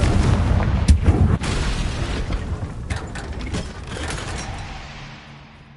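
Confringo fire spell blasts in the Hogwarts Legacy video game: several loud, booming bursts early on, each trailing into a rumbling roar that slowly fades out.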